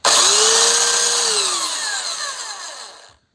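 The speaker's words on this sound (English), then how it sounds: "I got this Skill Classic belt sander." A Skil Classic belt sander runs loudly and steadily with a high whine that slowly drops in pitch before cutting off.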